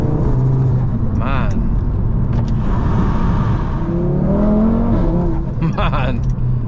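A 520hp Audi RS3 saloon accelerates at full throttle at night, its engine note climbing steadily through quick gear shifts while a driver talks over the loud cabin drone.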